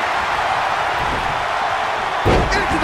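A DDT slam hits the mat in the WWE 2K20 wrestling video game, a single deep thump near the end, rising out of a steady roar of arena crowd noise.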